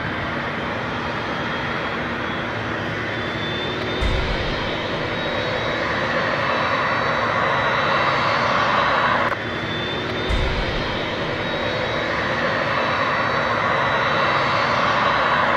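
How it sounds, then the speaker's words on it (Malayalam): A parked airplane's engine, a continuous loud roar with a steady whine on top, unbroken for the whole stretch, with two brief low thumps. "പാർക്ക് ചെയ്തിരിക്കുന്ന ഒരു വിമാനത്തിൻ്റെ കാഴ്ചയാണ്"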